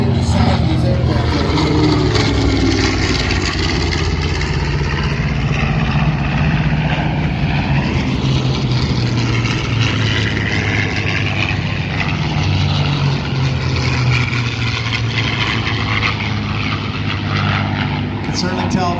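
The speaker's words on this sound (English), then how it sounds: "Certainly tell the sound of those Merlin engines on the D models." Warbirds including a P-51D Mustang fly past at an airshow, their Merlin engines a loud, sustained propeller drone that fills the whole stretch without a break.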